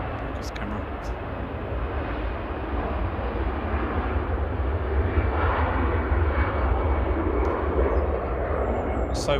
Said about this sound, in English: Flight A749 to Barcelona, EC KRH A320 Classic.